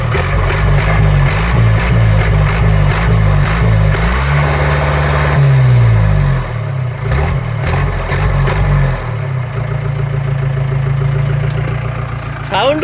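A modified vehicle's exhaust idling, then revved up several times in loud bursts before settling back to a deep, steady idle. The engine runs close and alone.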